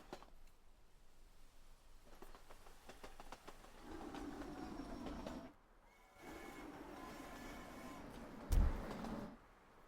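Trains circle a town in the railway-building video game Sweet Transit, with soft rumbling carriages, clicking wheels and passing-train swells that come and go in waves, plus a short sharp clank near the end.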